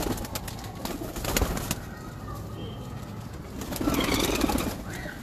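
Pigeons in a breeder's loft coo softly amid scattered wing flaps and rustling. The sounds are continuous and moderately near, with a fuller burst of cooing toward the end.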